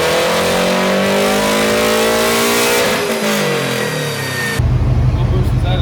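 A tuned Subaru engine revs hard on a dyno, climbing in a loud sustained wail, then dropping off abruptly into a rough, low idle-like rumble.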